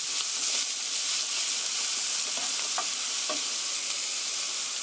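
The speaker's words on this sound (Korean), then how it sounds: "그래서 스터 프라이 3min 3분간 볶아주세요" Onions stir-fried in a pan for penne with tomato sauce give a loud, steady sizzle, with faint scrapes of stirring underneath and no voices.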